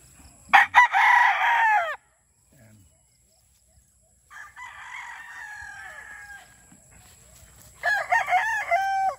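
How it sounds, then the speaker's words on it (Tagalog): Pure Boston Roundhead rooster, about ten months old, crowing loudly and close in several bursts with gaps between, a short spoken word also heard. "Ito ay isang pure Boston Roundhead."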